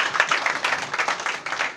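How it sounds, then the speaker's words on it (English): Applause at a charity foundation launch where beds are donated to a hospital: a brief, rhythmic burst of handclaps from a small crowd, fairly close and even. "So let's give him a big round of applause."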